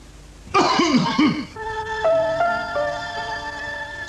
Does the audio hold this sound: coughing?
yes